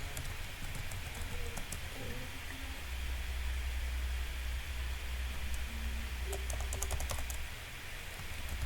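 Typing on a computer keyboard while setting up a Flutter app with Firebase, a quiet run of soft close key clicks over a constant hiss, with a brief quicker burst near the end.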